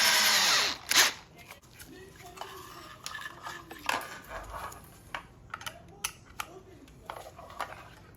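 A power drill whirs loudly for under a second, enlarging a mounting hole during a 40V motor swap on a Razor MX125 electric dirt bike. Scattered metallic clinks and taps of parts being handled follow.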